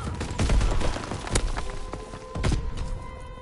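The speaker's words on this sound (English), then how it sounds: "Anti-aircraft bursts commenced." Anti-aircraft bursts crackle in a video game, with dense overlapping pops and a few sharper cracks over a rumbling battle bed. A faint tone hums underneath.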